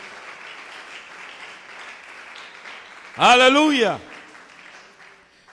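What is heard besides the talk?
congregation applause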